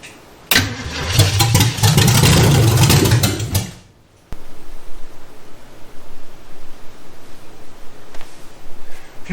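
Junkyard Chevy Nova engine cranking after a new fuel pump is fitted: a loud burst of starter cranking for a few seconds, a sudden stop, then a quieter rough rumble, close with no talk.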